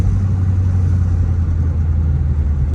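A Dodge Charger R/T Daytona engine droning steadily while driving in the early morning with the window down, a loud low rumble with a constant tone.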